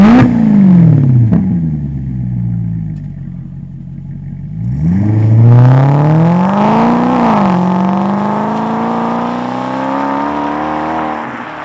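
A Maserati GranCabrio 4.7 V8 revving hard through its four exhaust tips, a loud rising roar that drops back to idle, then a second long, howling rev with crackles, close and without any voices.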